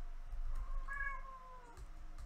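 A cat meows once, close and clear, a drawn-out tonal call in the middle over low background rumble.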